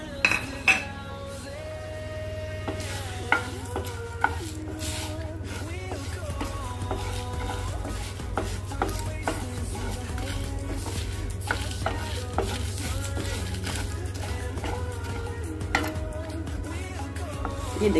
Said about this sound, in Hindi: अब इसमें हम सारे मसाले डाल दे रहे हैं और इसे रोस्ट करेंगे